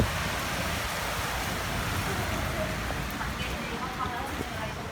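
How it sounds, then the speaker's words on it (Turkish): Steady rain falls outdoors as a soft, even hiss of moderate loudness, continuous throughout with no voices. "Yağmur yağıyor ben içeri geçin bence."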